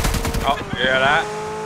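DP machine gun firing in PUBG, a rapid burst of shots in the first half second, followed by a brief whistling, warbling tail as a voice speaks over it.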